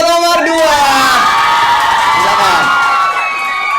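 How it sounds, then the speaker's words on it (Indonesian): A school audience at a student council (OSIS) candidate debate cheers and whoops loudly for candidate pair number 2, a dense crowd roar of shouting voices holding steady for a few seconds. "Tepuk tangan untuk paslon nomor 2."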